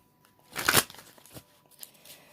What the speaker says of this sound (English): I'll shuffle them again. Just to give it a couple extra shuffles here.